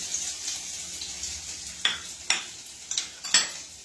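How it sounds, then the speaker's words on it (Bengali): Grated ginger goes into hot oil in a frying pan for spiced potatoes, giving a bright steady sizzle with several sharp spoon scrapes and clinks on the pan near the end. "সবার আগে আমি প্রথমে দেব হচ্ছে এই যে গ্রেট করে রাখা আদা কুচি"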